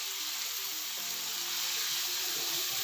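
Chicken with onion, garlic and chopped tomato fries in a pan with a loud, close, continuous sizzle, with faint stirring scrapes underneath and nobody speaking.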